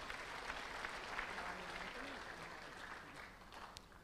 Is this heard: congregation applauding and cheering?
yes